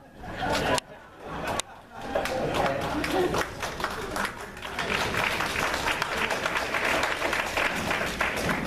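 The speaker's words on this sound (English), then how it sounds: "Was you clapping for me or because I made a joke about Rod?" An audience at a county candidates night meeting claps, starting with a few separate loud claps and then building into a dense, sustained round of applause mixed with crowd chatter.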